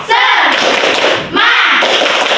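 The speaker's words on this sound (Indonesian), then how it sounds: "Tepuk semangat" A classroom of students performing a rhythmic clapping chant, two loud bursts of group claps and voices, close and punchy, separated by a brief dip.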